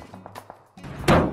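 Car being kicked with an emote in the video game Free Fire: a few light knocks lead up to one loud, close thud and slam that rings briefly.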